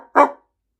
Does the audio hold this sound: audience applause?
no